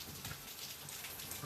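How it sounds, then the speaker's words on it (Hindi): Rain falling in Paniyar, a steady dense hiss of drops on surfaces, continuous and fairly close with no voices. "पनियार में हो रही है बारिश बारिश बारिश"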